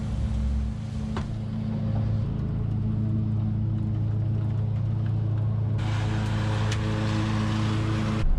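A vehicle towing a hitched trailer drives steadily, its engine and road rumble a continuous low drone throughout, with a brighter burst of road noise toward the end.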